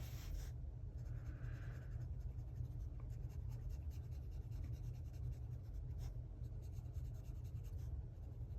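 A marker rubs softly across paper while colouring, a faint, steady scratchy stroke under a low background hum, close by and quiet, with no talking.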